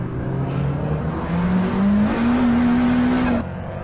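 Race car in the QUICK60 Challenge powering out of the chicane at Mallory Park, with a close, loud engine note rising steadily through the revs before cutting off abruptly.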